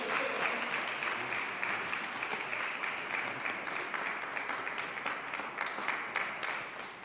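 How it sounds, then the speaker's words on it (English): An audience at a religious webcast gathering breaks into sustained applause to welcome a keynote speaker, a dense, steady wash of many hands clapping that holds at an even level throughout, heard from within the crowd. "So with a warm round of applause, please welcome our keynote presenter"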